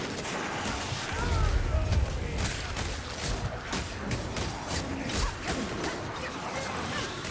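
In the video game Vermintide, rapid gunshots and impact cracks ring out while Skaven slaves are shot, with whooshing movement and clattering mechanisms.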